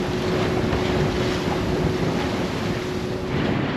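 Strong wind of about 20 knots buffets a sailing boat off the Scottish coast, a loud, steady roar with rushing water beneath and constant wind noise on the microphone, no voices.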